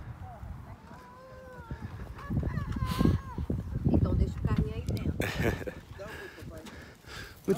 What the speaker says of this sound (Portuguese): Olha quantos patos aqui